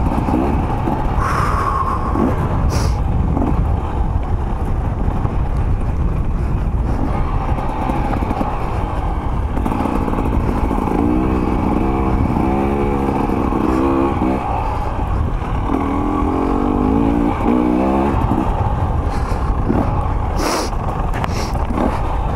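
KTM 300 XC-W two-stroke dirt bike engine running steadily throughout, with a low rumbling idle that rises into a few short revs near the middle and later, close by, with no talk.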